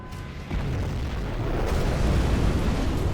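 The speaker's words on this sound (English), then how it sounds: "And we've got a nuke." Nuke detonating in a real-time strategy game, a deep sustained roaring boom that swells after a brief opening and keeps rumbling loudly to the end.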